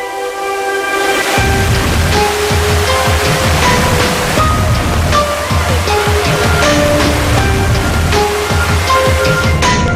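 The Sri Getuk waterfall in Gunung Kidul pours with a loud, steady rushing roar, mixed with sustained musical tones playing over the water noise.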